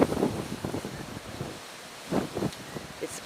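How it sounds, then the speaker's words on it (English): Strengthening wind ahead of Typhoon Krosa: gusty, blustery rushes buffet the microphone in rising and falling waves, loud and close, with no voices. "the wind's picking up"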